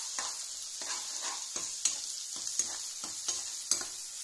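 Egg frying with chicken in a pan, a steady bright sizzle broken by repeated spatula strokes at a regular rhythm, up close with no talking.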